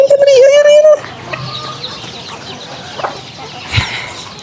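Chickens being fed Manapack rice give short, scattered clucks up close, mixed with a person's voice and a brief high whistle-like call at the start.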